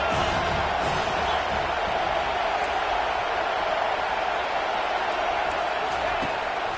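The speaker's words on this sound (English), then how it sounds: "this crowd trying to help keep them there" Stadium crowd roar from the College Football 25 video game, a steady dense wash of cheering that holds at an even level throughout with no distinct breaks, continuous and fairly loud.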